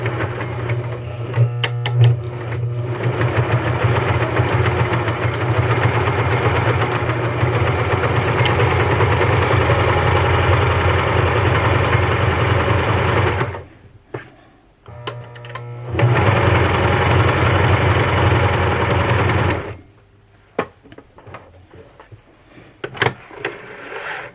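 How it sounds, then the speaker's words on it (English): A Janome HD 1000 heavy-duty sewing machine running a zigzag stitch, with a loud, steady motor whir and rapid needle chatter held for about thirteen seconds, a brief pause, then another run of several seconds, close up with no talk. "I'm going to go in and do stitch C, which is my zigzag"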